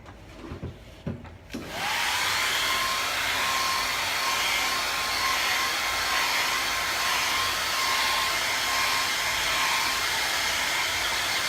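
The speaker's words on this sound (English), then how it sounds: "So I got my hair dryer here." A hair dryer switches on after a couple of brief clicks and runs with a steady, loud, constant whoosh and whine.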